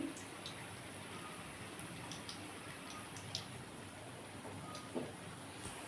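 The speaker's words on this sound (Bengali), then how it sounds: "আমি কড়ায় তেল বসিয়ে দিয়েছি দেখুন বন্ধুরা আমি কড়ার মধ্যে এগুলো বড়ার আকারে ছেড়ে দিয়েছি" Parwal pakoras sizzling in hot oil in a wok, a steady, fine crackling hiss with scattered small pops throughout.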